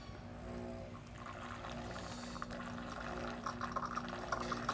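Hot water streams steadily from a Gaggia Brera super-automatic espresso machine, a soft continuous pouring and filling sound over a faint machine hum, with no talking.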